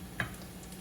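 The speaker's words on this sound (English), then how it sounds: "And I'm just dropping it in. And he says to put in basically as many as you think it can hold." Corn and green onion fritter batter dropped into hot frying oil gives a brief soft sizzle and bubbling with a small plop, quiet and close.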